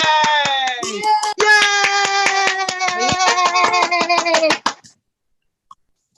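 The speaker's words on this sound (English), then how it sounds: "I want you to clap and go, yay!" Several voices at an online open mic shout a drawn-out yay together over a rapid patter of claps, loud and close for about five seconds before cutting off to silence.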